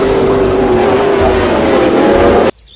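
A loud, steady race-car engine roar, played as the sound effect of a toy race car, sustains evenly for a couple of seconds and then cuts off abruptly.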